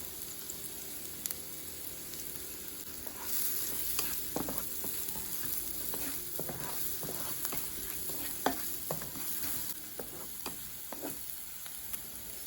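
Onions frying in a pan with chili flakes, a steady sizzle running throughout while a utensil stirs and scrapes in repeated sharp clicks and knocks, close and fairly loud, with no voices.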